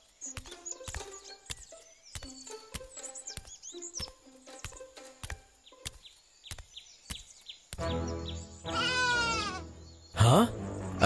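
Sheep bleating in an animated Bible story, a series of short sharp calls in a steady rhythm, followed by louder rising cries and a sudden final burst, close and clear without overlapping speech.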